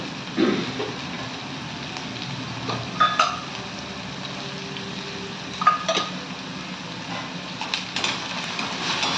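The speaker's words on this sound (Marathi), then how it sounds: "आता आपला टोमॅटो आणि कांदा आपण छान शिजवून घेणार आहोत" Tomato and onion cook in a pan for upma with salt and sugar, a soft continuous sizzle and fry hiss broken by occasional light stirring scrapes, close but fairly quiet.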